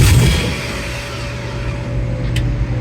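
A 1994 OBS truck with an LS engine swap cranking without starting, a steady loud mechanical drone with a low hum, and the fuel pump running underneath, close by and without speech.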